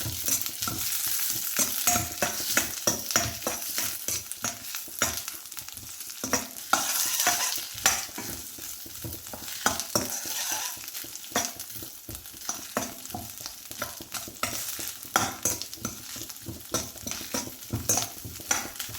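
Curry leaves and chopped garlic sauté in a pan for fish pickle, frying with a constant sizzle while a spoon stirs and scrapes in busy irregular strokes, close and without speech.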